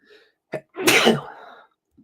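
One loud sneeze up close, with a quick intake of breath before it, then quiet.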